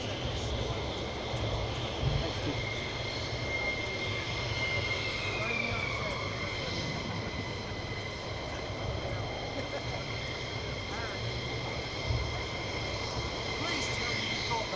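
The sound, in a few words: military jet aircraft departing RAF Lakenheath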